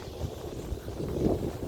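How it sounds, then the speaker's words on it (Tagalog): Low, rumbling wind buffeting the microphone near wind turbines in Taiwan, a steady roar with uneven gusts. "Lakas ng hangin."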